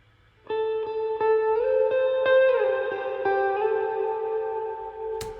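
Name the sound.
lead guitar with effects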